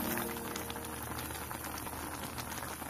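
Tteokbokki broth with fish cakes bubbling in a pot, a faint, steady close burble of boiling liquid with dense small pops, no speech.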